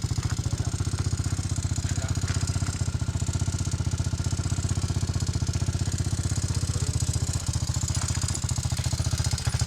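A heavy motorbike engine idling close by, a steady, fast, even putter with a faint rattle that holds at the same level throughout.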